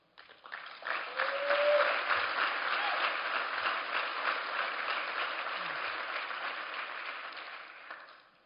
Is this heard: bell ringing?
no